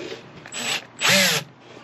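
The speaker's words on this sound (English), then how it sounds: "Put it on number 1 and start running your screw in" A power drill set to its lowest clutch setting drives a screw into flat pack furniture in two short whirring bursts, the second longer and louder, with a brief pause between them.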